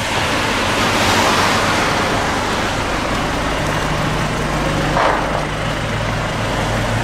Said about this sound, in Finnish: Tuulee.